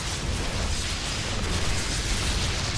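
Zerg Ravagers in StarCraft 2 fire corrosive bile, bursting in a dense, continuous wash of crackling explosions and blasts amid busy battle noise, loud and unbroken.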